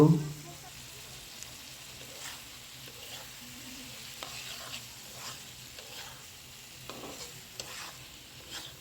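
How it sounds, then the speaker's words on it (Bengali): Spicy prawn bhuna masala with tomato being stirred and sautéed in a pan, a soft, steady sizzle with occasional scraping strokes, fairly quiet and close. "একটু কষাবো টমেটো দিব"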